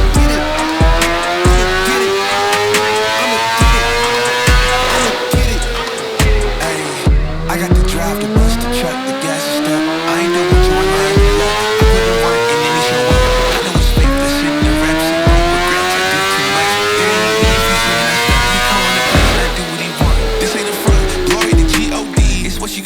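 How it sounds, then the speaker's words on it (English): A 2021 BMW S1000RR sport bike screams through repeated high-rpm runs on a dyno, loud continuous engine howl rising in pitch through the gears, several sweeping climbs with brief drops between shifts. "we just got done running this BMW S1000rr"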